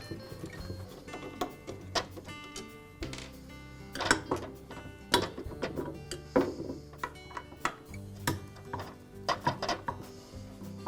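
Screws being turned out of the kerf plate on a DeWalt miter saw, giving a run of close, crisp ticks and ratcheting clicks in irregular bursts, with no talking.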